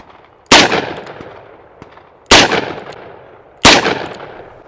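Three loud, close gunshots from a Taurus Tracker 692 revolver firing Critical Defense 127-grain rounds, spaced nearly two seconds apart, each sharp crack trailing into a decaying echo outdoors.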